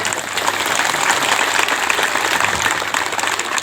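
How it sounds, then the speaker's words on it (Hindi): Dense, loud applause from a crowd at a wall inauguration ceremony in Pandra, Ratu, Ranchi, steady and sustained throughout without a pause. "इनके लिए ताली बजा"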